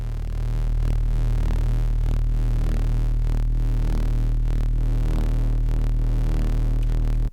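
A fast neuro bass runs through the Riff distortion plugin, a loud, dense, gritty low drone with throbbing, rhythmically modulated harmonics, sustained without a break and with no talk.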